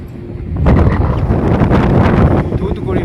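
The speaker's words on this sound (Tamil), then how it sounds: "சரியான காற்றுங்க" Strong wind buffets the microphone outdoors above the sea near Thoothukudi, a steady heavy roar that swells after the first half-second and stays loud throughout with no clear voices.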